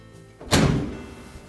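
A Frigidaire dryer door swings shut onto a newly fitted door strike with a single solid thunk that fades into a short ringing decay.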